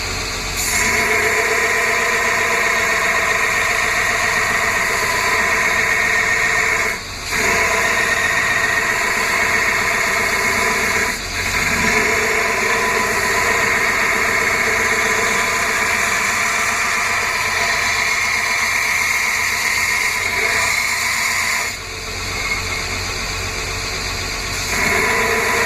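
A belt grinder rough-grinding the edge area of a Stag Bowie knife blade at 60 grit, a loud steady whining roar that runs continuously with a few brief dips where the blade lifts off, with no talk.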